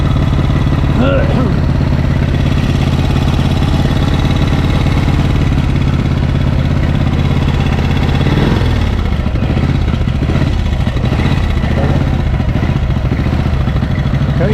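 A Matchless Model X motorcycle engine runs with a loud, steady, close low throb and mechanical clatter that grows rougher and revs partway through, while a person talks over it.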